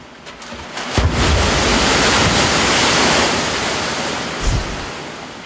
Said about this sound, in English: This machine can generate waves more than 3 meters high, propelling 300 cubic meters of water down a 180-meter long chute